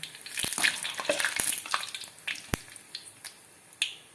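Rice flour vadagam fryums crackle and sizzle in hot oil, a steady frying hiss broken by sharp pops and snaps at irregular intervals, close and moderately loud with no voices.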